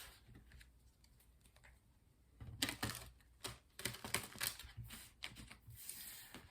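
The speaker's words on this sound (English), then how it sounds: "One more shuffle." Crisp riffling and snapping of a deck of tarot cards being shuffled, several quick bursts close by after a quiet start, with no talking.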